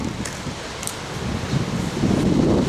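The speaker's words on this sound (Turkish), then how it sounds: "Arkadaşlar bir de birazcık rüzgar var. O yüzden sesimiz biraz Yarım uçuyor." Steady wind buffets the microphone with a low rumbling rush that grows stronger toward the end, along with faint rustling.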